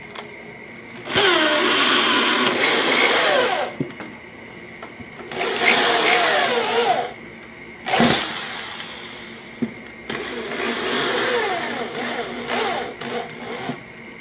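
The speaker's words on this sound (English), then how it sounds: "I'm just going to screw it in" A power driver whirs in three long bursts with short pauses between, each run a steady high-pitched motor drone, close and fairly loud, as a screw is driven into wood.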